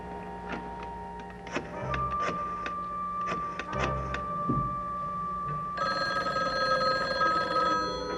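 A telephone rings in bursts of rapid bell trills separated by pauses, sitting fairly close in a quiet room, then a different, brighter electronic tone rises near the end.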